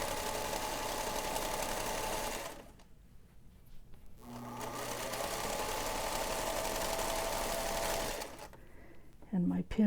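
A sewing machine stitches a pinned seam on a quilt insert panel in a steady mechanical run, stops for about two seconds, runs again and stops near the end. A voice talks over the stitching.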